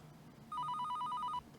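A telephone ringing inside a house in a video game, one electronic trill burst of rapid warbling rings, clear and fairly loud, lasting under a second over a quiet background hum.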